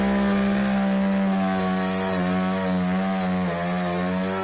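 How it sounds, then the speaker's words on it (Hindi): A chainsaw-type electric saw cuts through fallen trees blocking a flooded road in Chennai, running with a steady, loud, continuous whine whose pitch dips slightly under load near the end; no voices. "इलेक्ट्रिक आरी की मदद से पेड़ों को काटकर रास्ते को खाली किया"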